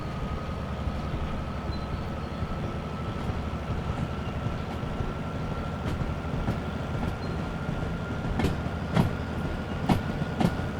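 A wrecked, damaged locomotive in Derail Valley pulls a train, giving a steady rumbling rail roll with a droning tone and rhythmic clacks and sharp metallic clicks building near the end, continuous and fairly close.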